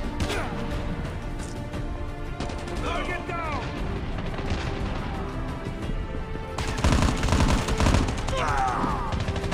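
M16 rifle fire in the mobile shooter Call of Duty Mobile, with sustained bursts and dense game-world explosions and crashes throughout, growing louder in the latter part, with voices in the game mix.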